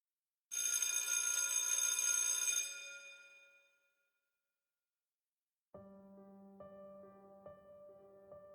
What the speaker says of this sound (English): The bell for lunch rang